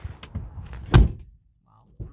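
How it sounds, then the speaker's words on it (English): A door closes with one solid thunk near the middle, preceded by shuffling and handling noises and followed by quiet, with a faint voice nearby. "The gentleman is opening doors for me."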